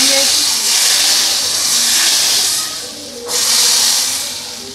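Fried garlic tadka meets masoor dal with a loud, close, continuous hiss and sizzle that dips briefly and then surges back as more is poured in.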